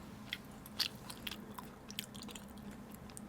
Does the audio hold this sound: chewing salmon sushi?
yes